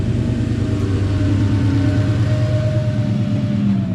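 A Viper Blue car's engine idles and rumbles steadily up close on its first drive, a low continuous drone with a faint higher whine running through it.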